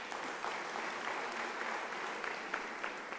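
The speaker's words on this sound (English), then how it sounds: "they deserve another round of applause" Audience applause at an academic-year opening ceremony, a steady wash of many hands clapping alone, moderately distant and fairly quiet, with no voices over it.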